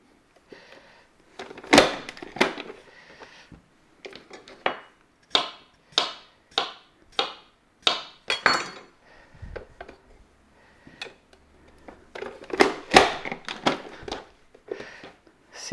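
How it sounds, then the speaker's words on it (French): Sausages are sliced on a board with Tupperware Maestro kitchen knives in a home kitchen, each cut landing as a crisp close chop, roughly a dozen spaced strokes with a brief flurry near the end, no talking. "là, je suis en train d'utiliser nos nouveaux couteaux haut de gamme"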